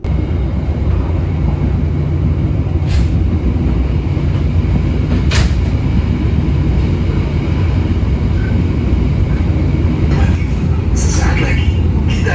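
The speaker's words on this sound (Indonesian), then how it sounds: "perjalanan dengan kereta api Dharma Wangsa ini" KA Dharmawangsa economy-class passenger train running on rails between Jakarta and Surabaya, a steady loud rumble and rolling noise heard throughout, with a couple of brief high squeals or clanks and an announcement voice over the constant din.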